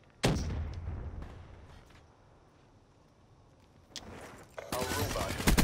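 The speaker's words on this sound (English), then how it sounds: "Frag grenade, move!" Explosions and heavy gunfire from a frag grenade blast in a chaotic multiplayer shooter game, a sharp loud burst followed by rumbling decay and then a dense barrage of shots near the end.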